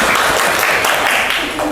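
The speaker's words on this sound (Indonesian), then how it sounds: "Oke, tepuk tangan untuk grup 1." Dense, continuous clapping from a classroom of students, loud and close throughout.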